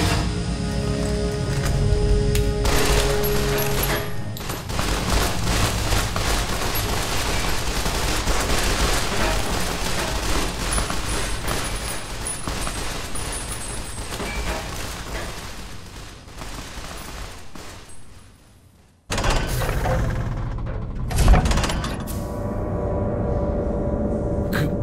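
Sustained gunfire fills a battle in the video game Project Brazil, dense rapid bursts and machine-gun fire over rumbling explosions, loud and continuous, cutting out abruptly near the end before resuming.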